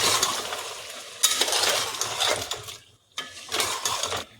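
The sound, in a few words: frying ginger garlic paste in a pan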